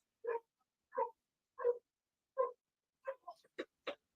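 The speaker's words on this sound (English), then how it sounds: "And dogs are barking because someone's knocking at the door." A dog barks several times in a regular rhythm, each bark evenly spaced, then a quicker cluster of yips near the end, all faint and distant with no talking.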